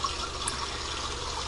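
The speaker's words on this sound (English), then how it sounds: "Water is pumped continuously through this closed loop system." Water pumped continuously through a home aquaponics closed loop system makes a steady rushing, trickling flow, an even wash of sound with no talking.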